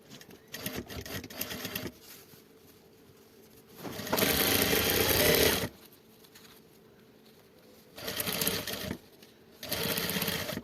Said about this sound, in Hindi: रखने के बाद ये हम सिलाई करेंगे।